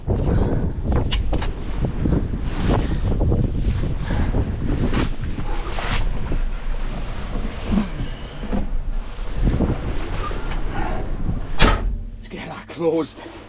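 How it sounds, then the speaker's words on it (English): Strong wind buffets a microphone on a hilltop around a wide-load truck hauling a Komatsu D65 dozer, a constant loud rumbling roar with people talking over it. "It's windy up here."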